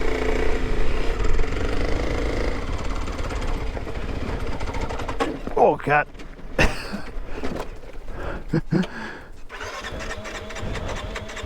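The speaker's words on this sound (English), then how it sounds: "I was riding it in second and just really lugging it, and eventually it just quit." Motorcycle engine lugging in second gear while riding through sand, a loud, continuous low rumble that falters and sputters toward the end, with wind and rustling noise and brief voice sounds.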